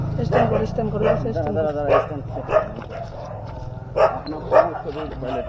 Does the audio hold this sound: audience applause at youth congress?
no